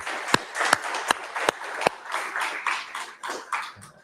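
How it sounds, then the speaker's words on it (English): A small group at an OWASP Ottawa security meetup gives sparse applause, with a handful of sharp, separate claps ringing out near and distinct against a quiet room. "Round of applause for the support that you bring"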